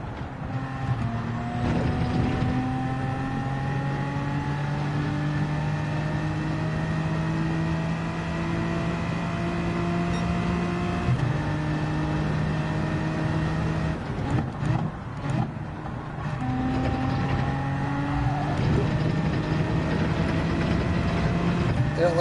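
Race car engine at Watkins Glen in Gran Turismo 7, a steady loud engine tone climbing in pitch through the gears with brief dips at each upshift, continuous and close with no talking.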